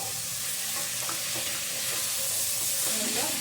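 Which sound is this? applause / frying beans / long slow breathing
frying beans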